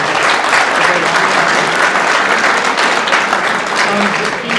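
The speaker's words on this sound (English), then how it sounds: "So if you can just give him a round of applause as well" An audience applauds at a live event honoring a university dean of students, steady dense clapping from a large crowd filling the room throughout without pause.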